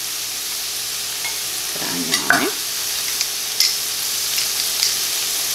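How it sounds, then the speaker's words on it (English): Garlic cloves squeezed through a garlic press into a cooking pan bring a brief squeaky scrape and a few soft clicks over a quiet, steady background hiss. "I'm going to press this garlic in here so we can get this to cooking."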